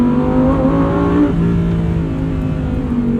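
A 2023 Lamborghini Huracan Tecnica with a seven-speed dual-clutch gearbox revs hard on throttle, a loud, close engine drone that holds steady, then shifts pitch as a gear change comes partway through.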